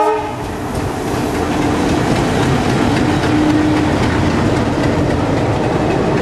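A diesel-hauled Jodhpur-Chennai Express rumbles past at close range near Sabarmati, a loud steady roar of engine and rolling wagons with rhythmic clickety-clack and a sustained horn tone running through the middle.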